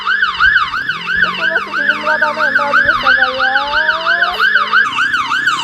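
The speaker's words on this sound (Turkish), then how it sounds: "Dostlar Lamborghini polis maşını geldi." A wailing police siren from a Lamborghini police car in the Roblox game cycles rapidly up and down in a fast repeating yelp, loud and steady, with an engine tone rising underneath.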